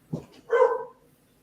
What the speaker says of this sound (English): What is that barking, Cash?